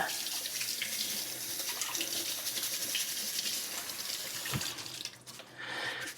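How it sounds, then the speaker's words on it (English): Food is rinsed under a running kitchen tap at the sink, a continuous close splash of water that briefly shifts near the end as the flow is interrupted, with no talking. "all we have to do is get it wet, right? So I kind of rinse it."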